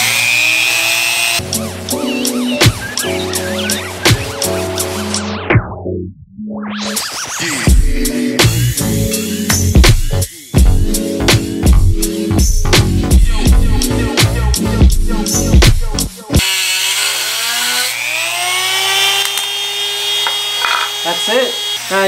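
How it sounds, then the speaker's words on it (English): A Dremel rotary tool cuts off part of a sportbike fender for a fender eliminator: a loud, high whine broken into repeated short bursts and grinding stutters, stopping abruptly near the end before a quieter tail. "Got my Dremel right here. I'm just gonna cut this part off"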